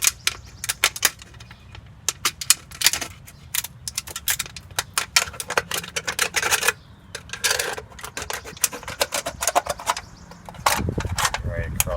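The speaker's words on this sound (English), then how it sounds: "Use some metal clippers here, cut through that." Metal clippers snip through an aluminum can being split into a sleeve for a muffler pipe wrap, a rapid run of sharp metallic clicks and cuts close by, with a few quieter gaps.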